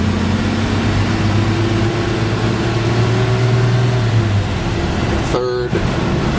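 A 1954-era Chevy Advance Design pickup truck drives at steady speed, its engine hum rising in pitch and then dropping at a gear change, followed by a brief mechanical click.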